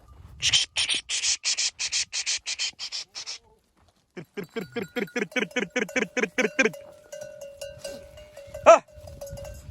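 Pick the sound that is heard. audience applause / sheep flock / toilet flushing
sheep flock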